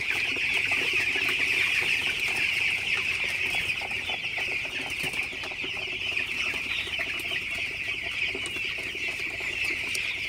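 A dense, steady chorus of many 16-day-old broiler chickens clucking and peeping together as they drink water, continuous throughout with no pauses and no voices.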